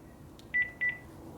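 A telephone on speaker sounds a faint steady tone and then two pairs of short beeps over low background hiss.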